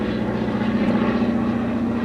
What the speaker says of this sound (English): Full plane coming in.